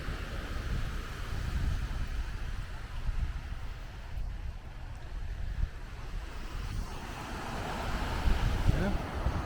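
Wind and surf roll steadily at a tropical Asian island beach at low tide, a broad, continuous rush of waves mixed with gusty wind noise on the microphone.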